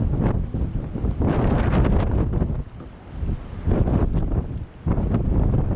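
Strong gusty wind buffets the microphone in surging waves beside the overflowing Lindley Wood Reservoir in Washburn Valley, loud and close, dropping briefly between gusts, with no voices.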